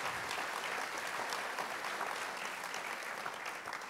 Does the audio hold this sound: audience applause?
yes